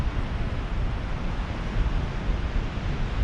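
Surf rolling onto the Lincolnshire coast at Moggs Eye under steady wind, a dense continuous wash of breaking waves that stays loud and unbroken throughout.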